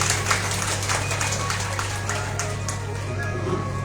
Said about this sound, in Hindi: शाबाश, ताली बजाओ।